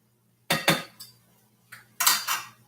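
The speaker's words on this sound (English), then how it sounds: "Let's stir him up. Make sure we break him up really well." A utensil knocks and scrapes in a pan while food is stirred and broken up, with a few sharp metallic taps in two clusters separated by quiet.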